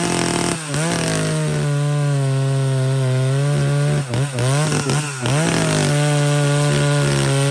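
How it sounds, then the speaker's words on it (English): A Husqvarna 2101 chainsaw runs close and loud in a steady four-stroking idle, then revs up in several sharp bursts before settling back into its rumble, with no talking. "Listen to the power saw, to the four stroking, and then listen to it rev up."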